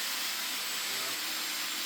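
A 1990s Panasonic MC-E53 upright vacuum cleaner runs on its lowest suction setting, giving a loud, steady, close airy whoosh and motor hiss that holds even throughout, with no talk.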